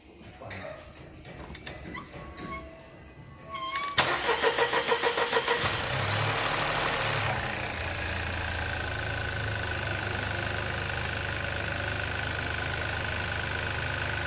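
A car engine with a coolant loss problem cranks briefly, catches with a burst of rapid pulses, then settles into a steady, fairly loud idle that runs on evenly.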